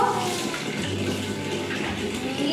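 Tap water runs steadily, rinsing a dog's toothbrush before a golden retriever's grooming, a continuous close splash and hiss with no pause.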